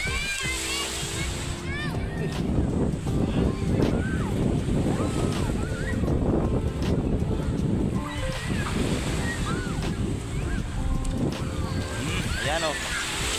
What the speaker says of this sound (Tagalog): So medyo medyo mataas na yung dagat, no.